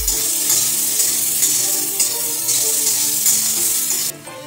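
Boiled potatoes are stirred in a hot frying pan for a vegetarian jackfruit dish, giving a close, loud sizzle over a steady humming drone. The sound drops away abruptly just before the end.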